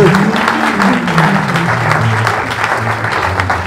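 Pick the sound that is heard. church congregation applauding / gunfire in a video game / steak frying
church congregation applauding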